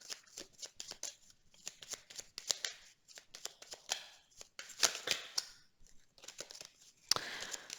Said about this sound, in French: j'ai tiré encore une carte là-dessus